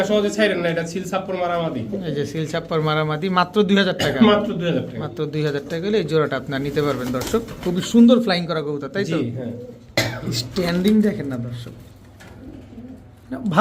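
Royal Teddy pigeons cooing in soft, rolling calls close by, almost continuous, with a voice talking over them throughout.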